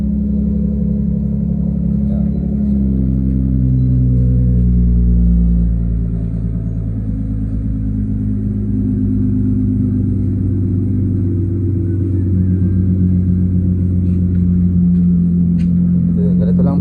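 A car engine with a newly fitted exhaust idles and revs, giving a steady, loud, close rumble that swells in the middle and then settles back into a deep drone.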